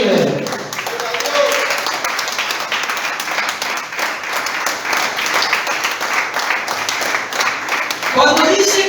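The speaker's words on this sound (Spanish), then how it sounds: "Aplaudan al que vive." A congregation at a church service applauds steadily, a dense continuous wash of clapping that holds at an even level throughout, with a few voices briefly audible at the start and end.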